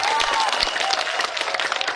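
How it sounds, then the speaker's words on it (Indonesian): A crowd applauds a cleric during a humorous Sundanese sermon, dense clapping with a murmur of voices, moderately loud and steady for a couple of seconds. "Tepuk tangan untuk ajengan nu deukeut"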